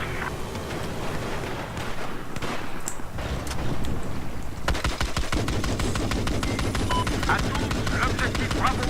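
Rapid gunfire crackles through a Battlefield 4 match, dense bursts of shots over a constant rumbling din, steady and loud throughout with no clear pauses.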